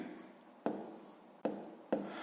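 Pen on paper writing numbers during a sixth-grade math exercise: three quick scratchy strokes, close and dry, each starting sharply and trailing off, with quiet room tone between.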